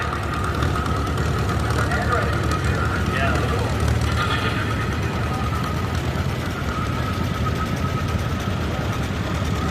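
A 1950 John Deere tractor runs steadily at a threshing show parade of power, its engine a continuous low rumble with a faint knocking edge, with crowd noise and voices in the background throughout.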